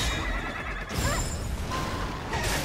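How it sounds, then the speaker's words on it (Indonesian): A horse monster in the video game Stellar Blade lets out a loud neigh and whinny, the call rising then trailing over game effects, with a second cry near the end. "monster kuda ini."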